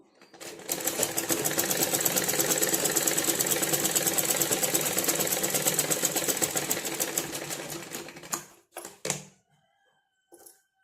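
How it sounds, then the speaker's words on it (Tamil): A tailoring sewing machine stitching fabric for a blouse patti runs steadily and loudly up close for about eight seconds with a rapid even needle rhythm, then stops, followed by a few short bursts and handling noises. "இப்போ நம்ம உள்பக்கமாக திருப்பி ஒரு படிமான தையல் போட்டுடலாம்"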